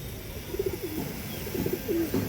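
A female Army breed pigeon gives soft, rolling coos in two short bursts, close and fairly quiet against a low background hum, with no speech.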